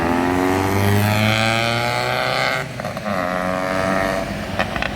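A car engine screams at high revs, its pitch sliding and climbing in loud sustained sweeps before easing somewhat midway, with no talk over it.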